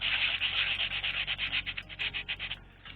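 Steady back-and-forth rubbing on a rusty Atari Jaguar console part, a close, rhythmic scratchy stroking of about a dozen quick passes that fade near the end, with no voices.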